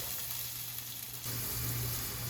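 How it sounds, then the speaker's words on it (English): Unboiled potatoes shallow frying in oil on a stovetop give a steady, close sizzle that swells louder partway through and keeps crackling evenly to the end. "Half of these I'm going to fry in some oil, just shallow fried on the stove."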